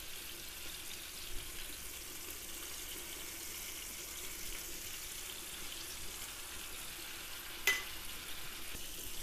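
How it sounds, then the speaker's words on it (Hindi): Fish pieces shallow-fry in a pan with a little oil, giving a faint, steady hissing sizzle throughout, broken by a couple of soft clicks. "पाँच मिनट के लिए हम इसको हल्का हल्का करके एकदम शैलो फ्राई गोल्डन कलर में हम इसको कर देंगे"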